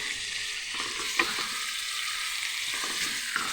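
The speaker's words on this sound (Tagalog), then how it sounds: "So, lalagay na po natin ang ating pork." Pork strips sizzle in a pan with garlic and onion, a steady loud frying hiss broken by a couple of sharp stirring scrapes, close up and without any voices.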